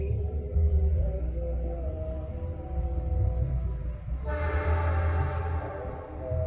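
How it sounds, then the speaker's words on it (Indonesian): Gajayana passenger train hauled by an ordinary locomotive passing a village cemetery at Talok, Garum, Blitar in the late afternoon, its horn sounding steady tones throughout with a rising burst of rumbling noise as it draws close. "Saatnya kereta api melintas, yaitu Gajah Yana."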